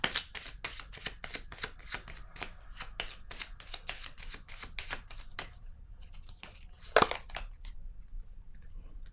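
Tarot cards are shuffled in a rapid run of crisp riffling flicks, close and clear, then fall quiet before a card is laid down with a single sharp snap.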